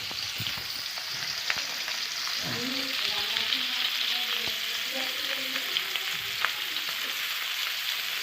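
Datina fish frying in a pan gives a steady, close sizzle, broken by scattered scraping clicks as it is stirred. A faint voice can be heard in the background.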